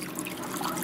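Water flows steadily at a low setting through a Blue Bowl gold concentrator, a continuous close wash of trickling and splashing that carries on without a break.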